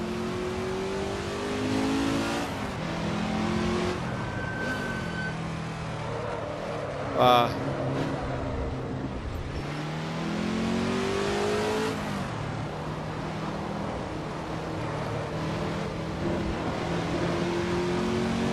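Ford GT40 race car engine in Assetto Corsa at Spa, droning and rising through revs with gear changes, heard steadily throughout under someone talking over it.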